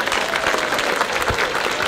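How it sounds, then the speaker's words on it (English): An audience claps in a continuous, lively round of applause, close and fairly loud, with a crowd murmur mixed into the clapping. "Let's hear another round of applause."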